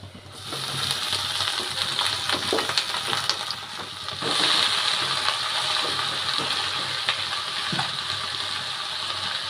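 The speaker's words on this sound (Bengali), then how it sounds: "তো এই পর্যায়ে আমি শাকগুলো কড়াইয়ের মধ্যে দিয়ে দিব।" Mixed leafy greens hit hot oil in a wok already holding fried garlic, chili and dried red chilies, raising a steady bright sizzle that swells midway and continues with occasional scraping clinks.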